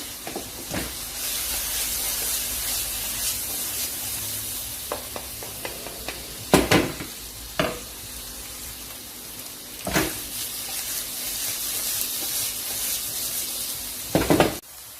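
Bell peppers frying in a pan over a gas flame, a steady sizzle and hiss throughout with several sharp clatters of a utensil stirring against the pan.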